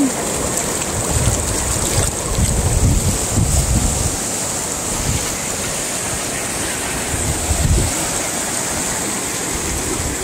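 A mountain stream flows close by on a downstream walk, giving a continuous loud rushing wash with gurgling swells and no voices.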